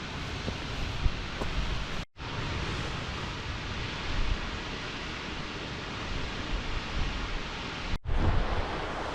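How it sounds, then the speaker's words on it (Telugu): A waterfall on a mountain near Elbrus in Russia pours as a steady, dense rushing hiss, broken by two brief cuts of silence, with no voices. "బ్యూటిఫుల్ ఉంది వాటర్ ఫాల్."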